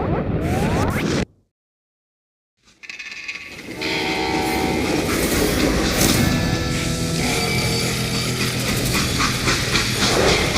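In the video game Call of Juarez Gunslinger, a moving freight train rumbles and clatters steadily and loudly, with a whooshing pass, after a brief stretch of near silence.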